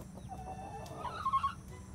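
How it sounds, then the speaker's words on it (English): A big, fluffy rooster clucking nearby in a few short throaty bursts over low background rumble. "It's one of our roosters."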